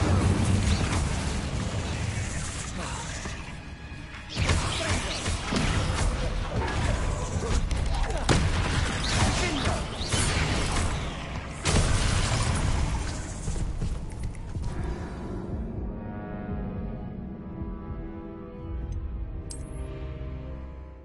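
Spell blasts and combat effects in a Hogwarts video game, dense crackling bursts and booming impacts in repeated waves, loud and continuous, fading near the end, with voices calling out over the action.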